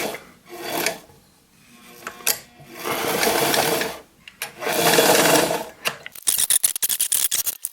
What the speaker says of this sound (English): I'm gonna sew the rest of the edges where that won't be openings for hands or the handlebars.